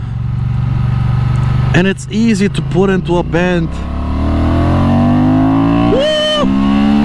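Honda Transalp XL750 motorcycle engine in sport mode, droning low and steady then rising in pitch as it accelerates, with someone talking briefly over it and wind rushing throughout.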